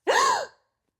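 A single sharp, voiced gasp, a quick rising intake of breath that cuts off abruptly, heard alone and close.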